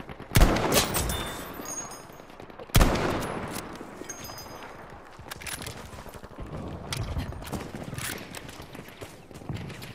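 Two sharp, loud Battlefield V gunshot blasts, a few seconds apart, followed by lower rumbling game noise and scattered fainter shots.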